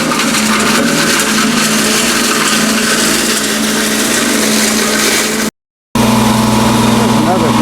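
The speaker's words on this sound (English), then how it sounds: "VS8 shredder" A VS8 shredder spinning at 3,600 RPM while shredding mango seeds gives a loud, steady mechanical whir with a constant hum. It cuts out abruptly for about half a second, then resumes.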